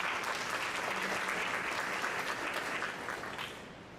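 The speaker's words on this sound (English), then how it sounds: "Let's give an applause for Miguel." An audience applauds a student winner of a craftsmanship award at a school board meeting, steady dense clapping that fills the room and tapers off near the end.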